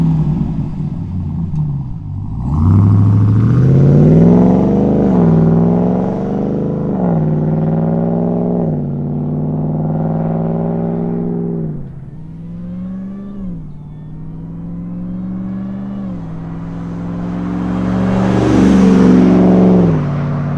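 RAM 1500 TRX pickup truck with an MBRP Race Profile black cat-back exhaust accelerating, a loud, close engine roar climbing through several revving pulls and gear shifts, then surging again near the end, with no talking.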